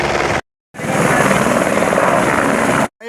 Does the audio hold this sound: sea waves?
no